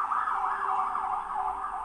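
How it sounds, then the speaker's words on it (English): An ambulance siren wails in a street, its steady rising and falling sweep holding loud and close for the whole stretch with no talk over it. "ambulance coming down the street."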